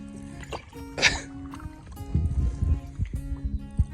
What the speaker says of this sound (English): One-handed paddling.